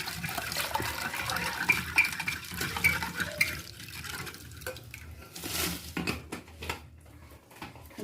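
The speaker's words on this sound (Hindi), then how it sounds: "और अब इसमें मैं डालूँगी ठंडा पानी।" Cold water is poured into a stirred sugar mixture for a homemade sugar cane cola drink. The pouring and liquid sloshing is fairly quiet, with light clinks of utensils and a brief louder splash near the end.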